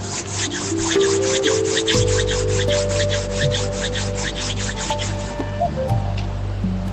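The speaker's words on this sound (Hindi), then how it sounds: "rub your palms" Palms rubbed briskly together close up during a guided gratitude meditation, a steady dry swishing friction that continues without pause over soft background music.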